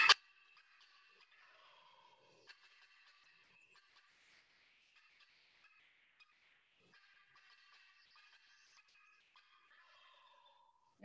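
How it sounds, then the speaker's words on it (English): Wild turkeys make faint clacking calls, soft scattered clicks and short notes continuing for about eleven seconds, quiet and somewhat distant with no talk. "So here's what is called clacking."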